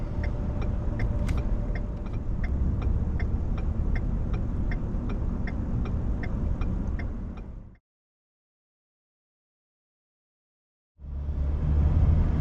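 Car driving on the road with a steady engine and tire rumble for several seconds, then a few seconds of silence before the road noise returns.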